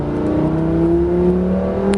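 A Lamborghini Gallardo 520 hp accelerates on the Marcoussis race track, its engine droning loud and close with a rising, steady tone for two seconds, no voices.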